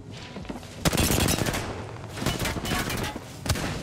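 Rapid gunfire in a video game crackles in sharp bursts and sustained volleys, loud and close, with brief lulls between strings of shots.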